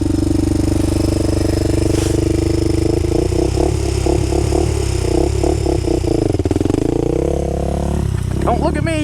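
A Honda 400EX ATV engine idles and revs close by with a steady low drone, rising and falling as gears are worked, while people talk over it.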